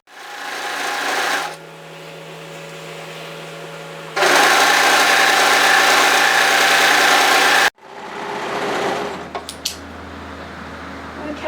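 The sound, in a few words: sewing machine stitching fabric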